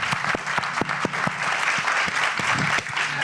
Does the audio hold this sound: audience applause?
yes